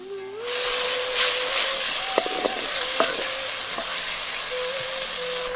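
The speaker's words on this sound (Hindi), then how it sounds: "फिर पिसा हुआ टमाटर भी डाल लें जब टमाटर तल रहे हों" Ground tomatoes fry with red chilli powder and coriander in a pan, giving a steady close sizzle and hiss with a few clinks of stirring and a faint tone in the background.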